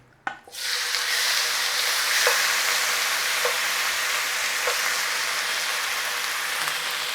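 Beef hits hot oil in a pan for a pepper beef stir fry, giving a sudden loud sizzle that settles into a steady, dense frying hiss with a few faint clicks, close and alone.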